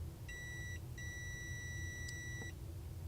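A continuity tester's buzzer beeps as its test leads touch: a short steady tone, a brief gap, then a longer sustained tone, clear but modest in level over a low background hum.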